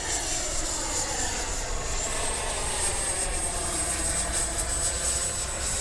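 An Arrows RC F-15 model jet with twin 64mm electric ducted fans flies past in a continuous rushing roar topped by a sharp high whine that holds steady throughout.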